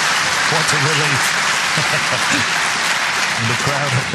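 A snooker crowd applauds a pot at a match between Trump and Mark Allen, a steady wash of clapping filling the whole stretch while a commentator's voice talks over it.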